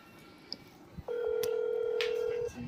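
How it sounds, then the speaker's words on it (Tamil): A telephone keypad in the horror game That's Not My Neighbour gives a soft click, then a single steady electronic tone lasting over a second, heard fairly close against a quiet background. "ஓகே, டிடிக்கு ஃபோன் பண்ணுவோம். 3 3 1 2."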